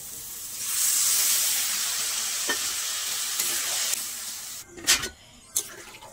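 Water is poured into hot oil for a Digha-style river crab curry: a loud burst of hissing sizzle swells almost at once, holds steady, then thins out, with a few sharp clatters near the end.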